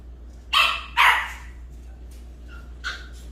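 Several puppies of the exotic bully breed bark nearby: two loud, sharp barks close together, followed after a pause by softer yips and a short whimpery bark, over a low steady hum.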